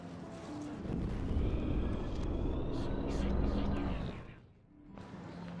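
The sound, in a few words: drone flying, from the video game Life is Strange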